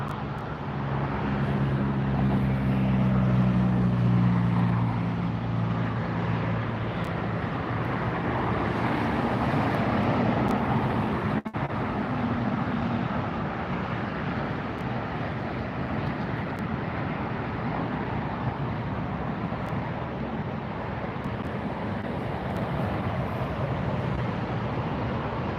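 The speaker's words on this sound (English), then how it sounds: "We see a Virgin Atlantic taxiing and Air France making the turn." Jetliners of Virgin Atlantic and Air France taxiing near a runway at LAX, a steady broad engine roar with low droning hum holding loud throughout, briefly swelling early on, with wind rumble and no talk.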